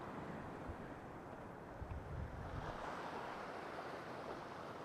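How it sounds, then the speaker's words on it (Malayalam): A boat approaching at sea off a beach, a low broad rumble blending with surf and wind buffeting, fairly faint and steady, with no one speaking. "ആ ബോട്ട് നമ്മളെ ഏകദേശം അടുത്ത് എത്താറായിട്ടുണ്ട്. അതിൻ്റെ സൗണ്ട് ഇങ്ങനെ കേൾക്കുന്നുണ്ട് കേട്ടോ"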